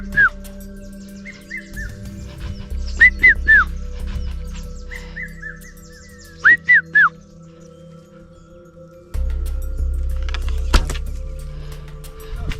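Hadza hunters whistle to imitate a bird, sending short rising and falling whistles in small clusters of two and three, clear and fairly close over a quiet outdoor background with faint low rumble.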